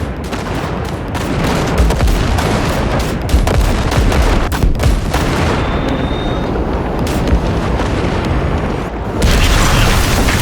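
Heavy blasts and rumbling destruction as a gate is blown open in the video game Cyberpunk 2077, a loud continuous roar of booms and debris with repeated sharp impacts and a renewed surge near the end.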